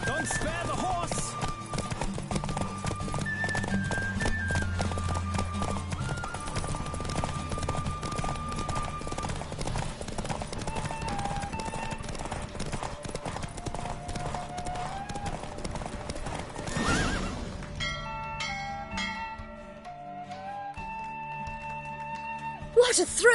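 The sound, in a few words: galloping horse in a race, from video game The Witcher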